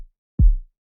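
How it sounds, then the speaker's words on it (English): A single deep kick drum hit with a boomy low tail that fades over a few tenths of a second, alone and clear. "Then the other sounds like this."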